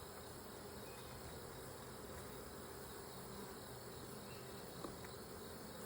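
Honeybees at an opened backyard hive during an inspection make a faint, steady, dense buzzing drone that fills the background without pauses and with no talking.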